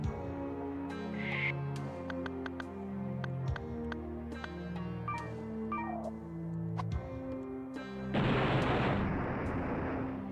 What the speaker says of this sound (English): Okay, what if I throw a grenade at it?